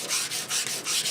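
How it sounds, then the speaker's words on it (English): Wooden shotgun forearm being hand sanded with 400 grit sandpaper: close, soft scratchy strokes in a quick back-and-forth rhythm, about four passes in a second. "This is a 400 grit. I'm just going to bring out that wood a little bit."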